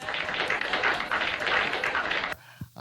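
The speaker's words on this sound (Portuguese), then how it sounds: "Palmas aí, ó." A classroom group of teenagers gives a burst of steady applause for a student who answered well, dense clapping for over two seconds before it cuts off into near silence.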